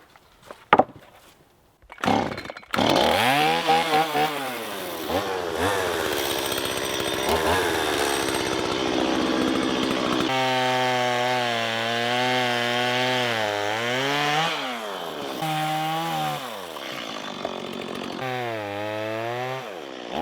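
A Norwood LumberPro HD36 portable sawmill cuts lumber. A few sharp knocks come first, then the gas engine starts and runs loud and close, its pitch rising and falling as the blade works through the wood.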